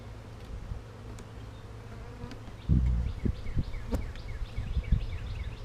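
A swarm of honeybees buzzes steadily around a queen excluder hive, with individual bees droning past up close and a few sharp knocks and thumps from handling the hive partway through.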